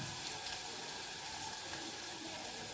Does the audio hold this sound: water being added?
yes